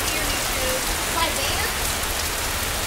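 Heavy rain pours down steadily on a camper at Raccoon Lake, a dense, even hiss of drops drumming on the roof with no letup.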